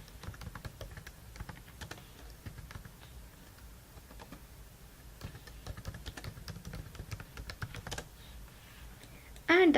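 Computer keyboard typing while a comment is entered into an IT service request form: a steady run of quick, light key clicks throughout, fairly close and moderately quiet, with a louder burst at the very end.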